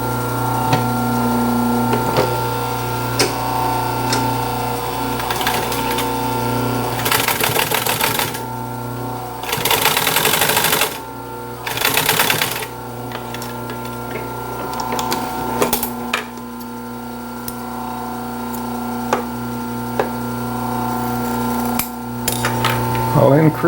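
Sewing machine stitching mohair upholstery fabric for a 1930s Art Deco chair. Rapid mechanical clatter comes in short bursts over a steady background hum, loud and close.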